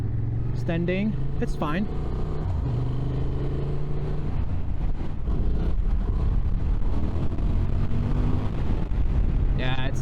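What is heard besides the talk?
Honda Transalp 750 motorcycle riding at low speed in second gear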